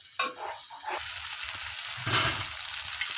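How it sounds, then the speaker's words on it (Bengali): Diced potatoes sauté with spice masala in oil in a pan, a steady close-up sizzle broken by a few scraping stirs, no talking. "বেশ খানিক্ষণ মশলার সাথে আলুটা কষিয়ে নিতে হবে"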